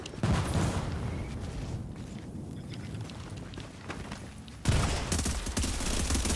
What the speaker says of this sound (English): Herb is shooting